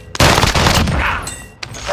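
Gunfire in a Warhammer 40K video game: a loud, dense burst of shots with metallic clangs, near and harsh, fading out briefly before another hit.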